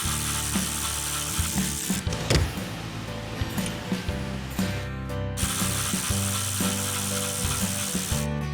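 A hand ratchet clicks rapidly and steadily while loosening the bolts on a Dodge Charger Daytona rear wing, with close, continuous pawl clatter and occasional pauses and knocks.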